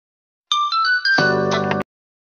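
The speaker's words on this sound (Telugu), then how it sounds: "అరే నాకు ఫోన్ వస్తుంది" A mobile phone rings for an incoming call, a short bright chiming melody over about a second and a half that starts close and clear, then gains a fuller layered tone before it cuts off abruptly.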